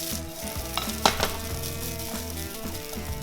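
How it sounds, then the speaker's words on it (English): Crumbled rice is tossed in garlic oil in a frying pan for Filipino garlic rice (sinangag), giving a close, steady sizzle broken by a few sharp scrapes and clatters as the grains are turned. "we're gonna go in with the crumbled rice and toss it around to get every grain of rice coated in that flavorful oil"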